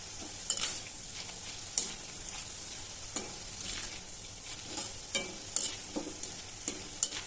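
Food frying in a hot pan on a gas stove until lightly browned, with a steady soft sizzle broken by sharp scraping stir strokes at irregular intervals, close and moderately loud, no talking.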